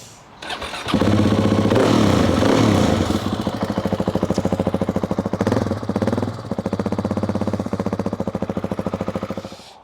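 BMW GS Adventure motorcycle engine cranking and firing up, then settling into a loud, close idle with a steady, pulsing throb and a brief blip of revs midway.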